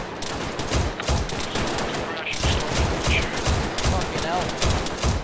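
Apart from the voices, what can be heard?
machine gun suppressing fire in a military video game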